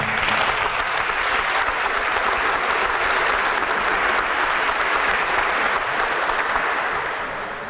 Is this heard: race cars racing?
no